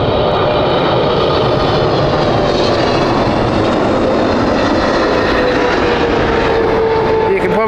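An American Airlines jet at Heathrow Airport under overcast skies roars loudly and steadily, its broadband engine noise filling the scene with a rising whine threaded through it as it passes close by.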